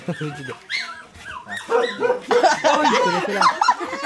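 A puppy yips and barks in short, high, excited bursts close by, mixed with people talking over it throughout.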